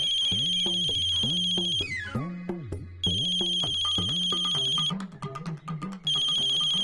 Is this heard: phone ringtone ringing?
yes